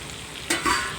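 Dried red chillies hit hot oil for gongura pickle, a steady sizzle that surges sharply partway through as the frying intensifies, loud and close with no voices.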